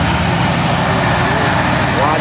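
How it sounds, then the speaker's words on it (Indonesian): Heavy intercooler tanker truck engine on a hill road, a loud, close, steady low diesel drone with a faint rising whine, mixed with someone talking over it. "Ini truk tangki intercooler."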